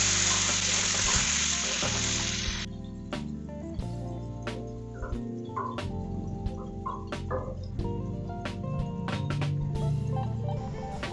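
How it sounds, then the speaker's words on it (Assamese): Curd-marinated chicken sizzles and fries in a kadai while being stirred, a loud steady crackle that runs continuously with scraping stirs and no talking. "মাংসখিনি ভালদৰে লৰাই 5 মিনিটমান ভাজিলোঁ।"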